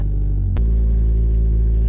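A 1988 Toyota MR2 AW11 engine rumbles close and loud, with a sudden clunk as first gear goes in, after which the steady low drone keeps on.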